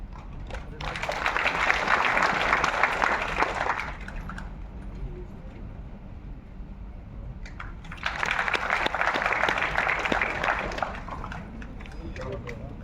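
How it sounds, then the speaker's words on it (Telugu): A group claps vigorously together as a health exercise, in two sustained bursts of about three seconds each separated by a quieter pause, with faint background murmur between. "గట్టిగా చప్పట్లు కొట్టాలి అందరూ."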